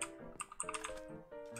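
Rapid clattering keystrokes on a new, inexpensive $20 computer keyboard, close and fairly loud, in an irregular burst of clicks with a voice murmuring faintly underneath.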